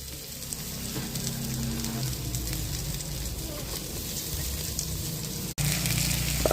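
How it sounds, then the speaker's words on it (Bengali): Chopped onion with garlic, cardamom, cloves and cinnamon sizzling in oil in a pan for a chicken curry, a steady close frying crackle with low stirring rumble throughout, a brief break near the end before it resumes. "তারপরে সামান্য তেল দিয়ে এটা আমি ভালো করে ভেজে নিই।"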